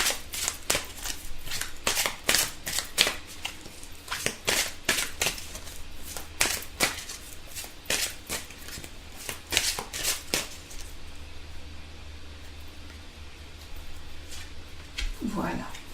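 Angel oracle cards being shuffled, a long run of quick dry riffling flutters that fill most of the stretch before thinning out, close and fairly loud, with a quiet room behind.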